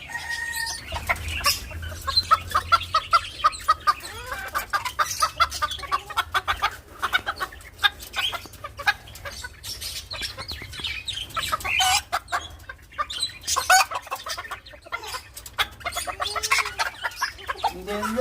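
A flock of Barbu d'Anvers, a fancy bearded bantam chicken breed, clucks steadily and close by, with busy overlapping calls and scratchy rustling and an occasional crow-like note throughout.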